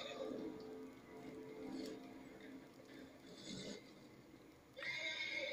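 A horse whinnies in the video game Red Dead Redemption 2, with repeated neighing under steady game ambience and a brighter, louder burst near the end.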